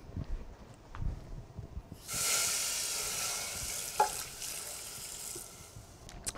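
Water poured into a hot saucepan just used for pistachio praline hisses and sizzles loudly and suddenly, then settles into a steady fizzing hiss that slowly fades, with a small clink partway through.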